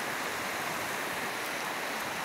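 Flooded river water rushes past in a constant, even roar, a broad hiss of turbulent current with no pauses or voices.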